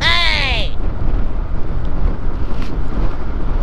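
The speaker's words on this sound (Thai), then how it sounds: "ลมค่อนข้างแรงฮะ" Strong wind buffets the microphone during a motorcycle ride, a loud, close, rumbling roar that pulses unevenly throughout, with a brief rising tone at the very start.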